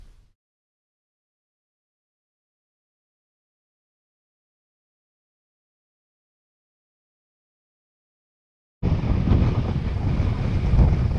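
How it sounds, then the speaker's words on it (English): Strong wind buffets the microphone on top of Mount Toolbrunup, arriving as a sudden loud low roar after long silence and continuing steadily to the end. "It's windy."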